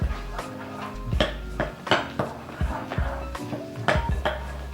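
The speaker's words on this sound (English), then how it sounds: "And we're going to mix it until everything is well mixed, until you don't see the white cake mix." A spoon knocks and scrapes around a bowl while strawberry chocolate chip cookie dough made from white cake mix and Ghirardelli chips is stirred by hand, roughly a dozen sharp clinks in an uneven rhythm, close by and alone.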